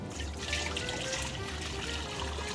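Beef broth is poured into an Instant Pot as a short, soft, steady liquid trickle, heard up close with no talking.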